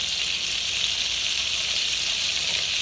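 Olive oil and a full stick of butter sizzling in a pan, a steady, even frying hiss that holds unbroken from start to finish, close and fairly loud with no talk.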